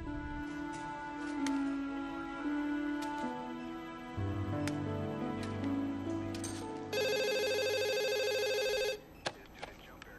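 A telephone rings in repeated electronic bursts, at first under music and other sounds and then in a loud, clear final burst before it stops.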